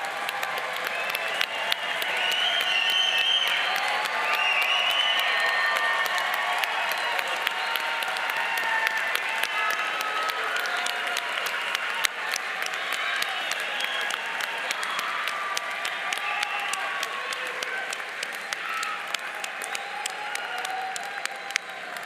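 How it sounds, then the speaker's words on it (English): Sustained applause from a large crowd at a college business school ceremony, steady and loud for over twenty seconds before gradually thinning slightly toward the end. "Let's give them a well-deserved round of applause."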